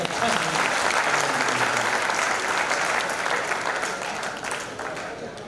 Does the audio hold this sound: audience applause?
yes